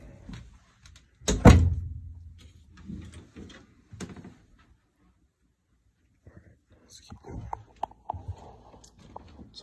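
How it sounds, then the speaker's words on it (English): A front door in a Boise house swings open on its own because it will not latch, giving a loud thump near the start, with quiet speech and small handling noises around it. "front door, whoops, accidentally came open. Seems like it doesn't want to latch."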